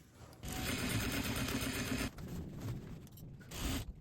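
Sewing machine stitching along a jeans waistband, a fast steady whirring run of about one and a half seconds followed by shorter bursts, close and clear, no speech.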